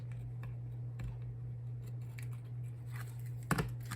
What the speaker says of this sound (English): So we're just going to get that backing tape off here